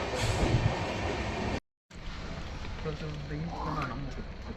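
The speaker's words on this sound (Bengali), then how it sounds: "এই মুহূর্তে আমাদের ট্রেন গোসাইগাঁও রেলওয়ে স্টেশনে এসে দাঁড়িয়েছে" Passenger train, the Guwahati Intercity Express, standing at Gosaigaon station in Assam, a steady rumbling carriage and platform ambience with a brief drop-out, then a faint squeal and people talking nearby.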